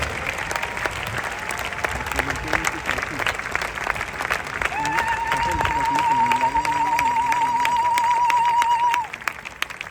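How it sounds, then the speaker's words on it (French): A crowd applauding at a funeral for Maman Blanche at a necropolis, with dense, continuous clapping throughout, a sustained tone and voices running beneath it, easing off near the end. "Acclame très fort"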